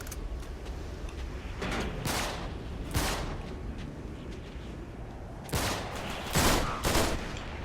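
Gunfire from a stronger weapon in Uncharted 3 comes in several sharp, loud bursts spaced unevenly over a low background rumble, with the heaviest shots clustered near the end.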